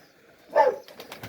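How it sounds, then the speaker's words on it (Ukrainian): A single low cooing call from a pigeon, close by, followed by faint rustling. "його голуби."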